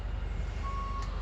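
A delivery truck reversing next door gives a steady, distant backup beep that sounds faintly over a low rumbling engine drone.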